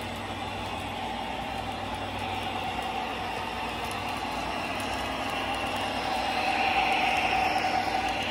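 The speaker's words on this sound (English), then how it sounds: "That's it, the American Freedom Train. First time on the tracks." Lionel TMCC American Freedom Train model running on tri-rail track, a steady, fairly loud whirring rumble of motor and wheels that grows slightly louder toward the end, with no talking.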